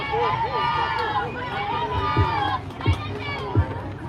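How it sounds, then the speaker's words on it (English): A raucous crowd at a high school baseball game between Cooper City and McArthur at McArthur High School, with lively cheering, children's voices and babble, punctuated by a few low thumps. "A raucous crowd here at McArthur High School."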